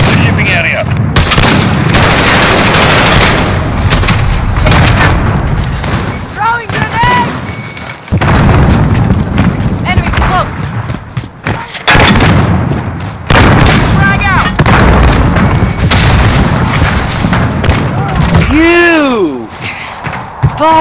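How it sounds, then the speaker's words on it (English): Gunfire and explosions in Call of Duty: Modern Warfare (2019) ring out as loud, dense bursts and heavy booms throughout a multiplayer fight, overlapped by shouted voices and game callouts. "Taking fire! Incoming round!"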